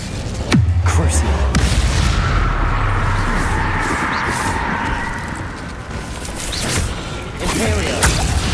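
Spell effects from Hogwarts Legacy combat as the Crucio curse is cast: a sharp boom opens, a sustained whooshing magical hum follows, and further bursts and thuds come near the end, with no voices.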